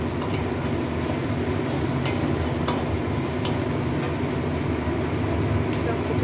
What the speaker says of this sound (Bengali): আবার একটু ভালো করে নাড়াচাড়া করে নিচ্ছি।